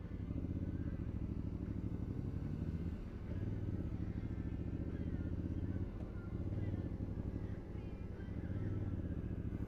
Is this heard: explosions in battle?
no